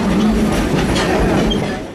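Southern Pacific 2475, a 1921 Baldwin P-8 class Pacific steam locomotive, running by on Altamont Pass with a loud continuous roar of rolling wheels and working steam, close and without speech.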